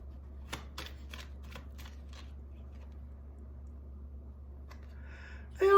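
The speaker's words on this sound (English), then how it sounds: "let's see how many shuffles we're gonna get." A deck of tarot cards is shuffled in a quiet room, several quick riffling bursts close to the microphone, then a pause before a brief louder rustle at the end.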